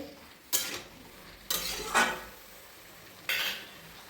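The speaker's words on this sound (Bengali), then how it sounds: "ভালো করে উল্টে নেবো লাউটা" Tender bottle gourd turned over in a cooking pan for a winter vegetarian dish, three separate bursts of metal scraping and clattering with a faint sizzle between them, no voices.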